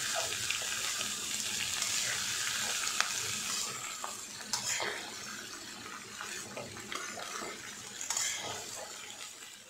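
Watermelon rind pieces are stirred in a hot pan, giving a continuous hissing sizzle with scraping and tossing sounds. No voices are heard.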